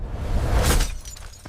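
Glass shatters in one loud, close crash that swells and then breaks into scattered tinkling fragments before fading out.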